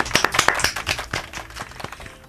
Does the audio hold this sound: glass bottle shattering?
no